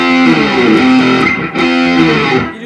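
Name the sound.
distorted electric guitar strumming bar chords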